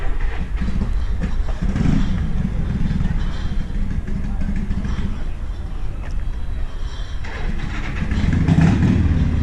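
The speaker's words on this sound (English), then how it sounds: "it's a bagger. It's blown too. Wow. Got a blower on it." A supercharged bagger motorcycle rumbles loudly nearby with a low, steady engine note that swells toward the end, while voices can be heard around it.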